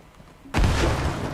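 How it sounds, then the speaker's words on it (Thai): A grenade in Fortnite goes off as a sudden loud blast after a quiet moment, then a sustained roaring burst that holds to the end. "อันนี้มันระเบิดคามือได้ด้วยวะ"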